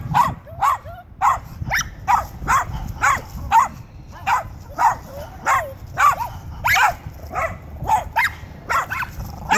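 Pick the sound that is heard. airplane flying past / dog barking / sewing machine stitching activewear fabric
dog barking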